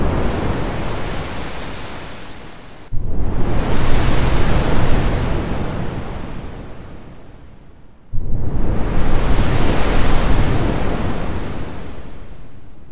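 Synthesized ocean waves designed in the Vital synth with reverb: two long noisy swells, each crashing in abruptly and then slowly receding in a broad hiss, with no voices.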